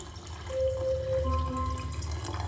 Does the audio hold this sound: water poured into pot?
yes